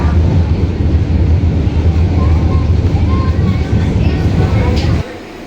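The historic FGC Granota train on the Metro del Vallès line gives a loud, steady rumble of a train running close by, with faint voices underneath, then the noise drops off abruptly near the end.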